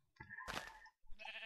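A Minecraft sheep gives a couple of short, close bleats, fairly faint, separated by a brief silence, with no talking over them.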